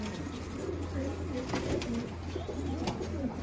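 A flock of flying pigeons kept in a Rohtak loft gives low, rolling coos that pulse in and out, fairly quiet and blended with ambient outdoor hiss.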